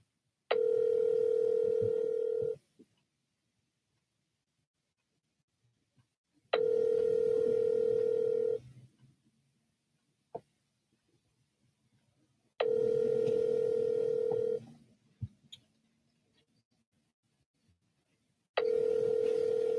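A phone call on speakerphone rings out unanswered, with four evenly spaced ringback tones of about two seconds each separated by long silences, clear and moderately loud.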